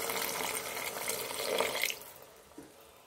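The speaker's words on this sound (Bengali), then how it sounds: "এবার এর মধ্যে দিয়ে দেবো জল।" Water pours into a pan of fish and ridge gourd, a broad rushing splash for about two seconds before it cuts off, followed by a faint drip or clink in a quieter room.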